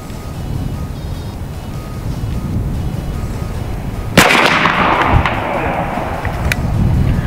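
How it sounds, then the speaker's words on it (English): An AEA Zeus .72 caliber big-bore air rifle fires at a target 50 yards away, a single sharp loud crack over steady outdoor background noise. "Let's see if we can go ahead and take a couple of more shots and see if it'll group on the bullseye"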